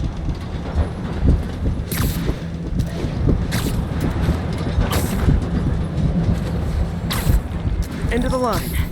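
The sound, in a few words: subway train in Marvel's Spider-Man Remastered video game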